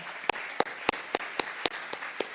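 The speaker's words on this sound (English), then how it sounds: "let's give a round of applause for everyone" Audience applause after a talk on brilliant failures, heard as sparse, evenly spaced loud claps about every quarter second rather than a dense crowd roar, with no voices over it.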